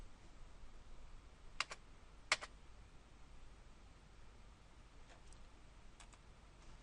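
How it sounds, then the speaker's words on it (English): A computer keyboard spacebar is pressed a few times, faint close clicks in two distinct taps near the start, then softer light taps later over a quiet room hiss, with no one speaking. "we can toggle the orientation with the spacebar until we're happy"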